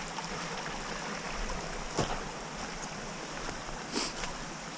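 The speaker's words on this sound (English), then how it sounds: "There's a cool little waterfall right up here." A small creek waterfall splashes and trickles steadily over rocks nearby, a continuous rushing hiss with a couple of faint knocks, and no voices.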